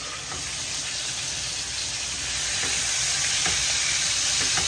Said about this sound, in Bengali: পেঁয়াজগুলোকে গোল্ডেন ব্রাউন করে ভাজা করে নিচ্ছে।